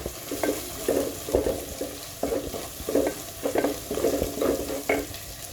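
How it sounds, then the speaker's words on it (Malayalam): Dried red chillies sauté in a pan with other ingredients for a sardine curry, close rhythmic spatula strokes scraping and tossing against a soft sizzle, repeated roughly every half second, no voices. "ഇനി നമുക്ക് രണ്ട് വറ്റൽ മുളക് ഇട്ട് കൊടുക്കാം"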